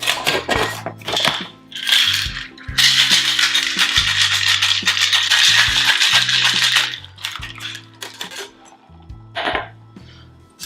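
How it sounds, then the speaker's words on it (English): Ice rattles hard in a cocktail shaker as a rum drink with juice and papaya-ginger shrub is shaken, a loud sustained clatter for several seconds, trailing off into a few lighter knocks at the end. "We'll add our ice and give it a shake."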